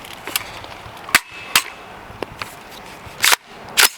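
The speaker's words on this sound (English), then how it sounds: "We're gonna shoot some steel." Rifle fire from a .458 shooting steel targets outdoors: several sharp, loud cracks spaced irregularly over a few seconds, a couple of them doubled in quick succession.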